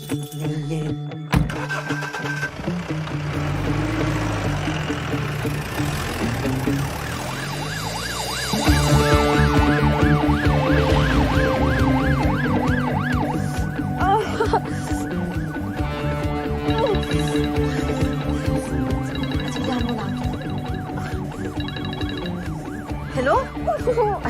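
Ambulance siren wailing loudly in rising and falling sweeps, joined midway by a second, louder siren pattern, with engine noise and busy street sound underneath throughout.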